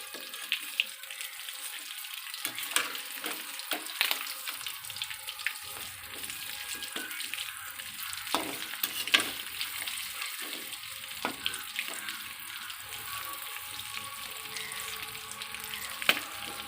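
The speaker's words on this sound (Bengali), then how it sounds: "দেখুন ভাজা হচ্ছে KFC, এক পিঠ হয়ে গেছে আর এক পিঠ উল্টাচ্ছি।" KFC-style chicken pieces sizzle steadily in hot oil. Scattered clicks and scrapes of utensils come as the pieces are flipped, and the frying hiss continues throughout.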